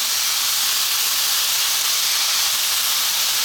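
Beef and bean sprouts stir-frying in a hot pan, giving a steady, even sizzle and hiss that runs unbroken from start to finish with no voices.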